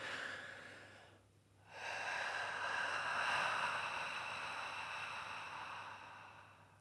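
A single deep breath is drawn in through the nose with a short pause, then released in a long, slow, audible exhale close to the microphone, with no talking over it.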